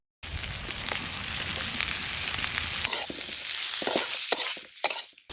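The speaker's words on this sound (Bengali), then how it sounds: "রসুনটা আগে হালকা ভেজে নিয়েছি, এবার পেঁয়াজ কুচি দিয়ে দেবো।" Chopped onion and chilli dropped into hot oil with lightly fried garlic, a loud close sizzle with stirring that fades toward the end into a few scrapes and taps.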